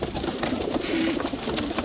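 Racing homer pigeons, young and old cocks and hens kept in a loft, coo softly and steadily, with a low murmuring call rising and falling close by and no talk.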